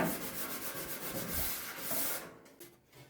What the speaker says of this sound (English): So we're just going to use some red Scotch-Brite, scuff our area.